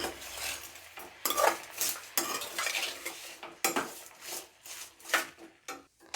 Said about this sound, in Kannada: ಇವಾಗ ಇದನ್ನು ಮತ್ತೆ ಫ್ರೈ ಮಾಡ್ಕೊಳ್ಳೋಣ.